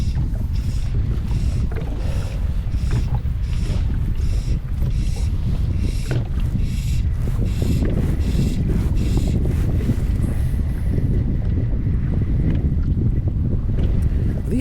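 Strong gusting wind buffets a fishing boat out on Rutland Water, a constant loud roar of wind noise and rushing water filling the whole stretch, with no clear talk.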